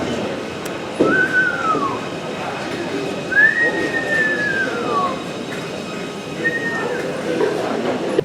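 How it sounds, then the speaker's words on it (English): A Merseyrail Class 777 electric train draws into a station platform, its rising and falling whine and faint squeals of brakes sounding at a moderate distance over a steady rumble of station ambience. "777 approach the platform any second now."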